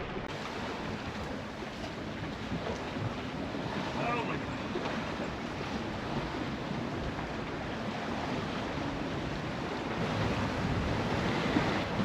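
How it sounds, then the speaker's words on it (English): Waves wash and wind rushes steadily past a sailboat under sail with its engine off, heading south along the coast in autumn. The surf hiss and wind noise stay continuous and fairly soft throughout. "here's some clips of us sailing"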